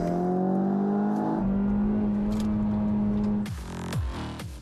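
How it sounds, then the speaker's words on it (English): Kia car with a 1.6-liter direct-injection turbocharged gasoline engine of 204 horsepower accelerating, a steady engine drone rising in pitch, then a gear change and renewed climb, heard from inside the car. "And you can really feel that power when you step on the gas."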